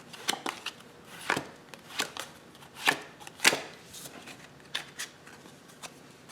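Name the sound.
playing cards dealt, top card moved to back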